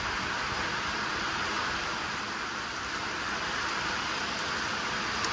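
Rain falls steadily during Hurricane Milton as a constant dense hiss with no breaks, even in loudness throughout and with no voices.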